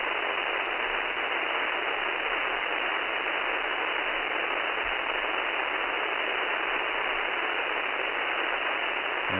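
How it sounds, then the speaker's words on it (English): Steady, loud hiss of radio static from a software-defined radio receiver tuned for APRS packet decoding, unbroken and uniform throughout with no voices. "let's see if we can get rid of some of the static"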